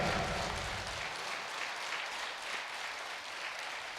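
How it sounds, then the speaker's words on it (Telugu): A crowd gathered for Brahmarshi Patriji applauds loudly, dense steady clapping filling the whole stretch with no pauses and no voices above it. "గట్టిగా చప్పట్లు కొడదాం పత్రి సార్కి"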